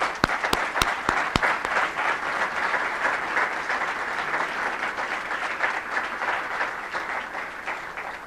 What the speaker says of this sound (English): I'd like for all of you to stand and just get a round of applause because you deserve it